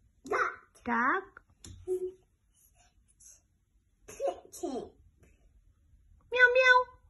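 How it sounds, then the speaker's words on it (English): A cat meowing: a few short, high, tonal calls heard near and fairly clear, separated by pauses, with a young child and an adult talking between them. "Meow meow. What is meow meow?"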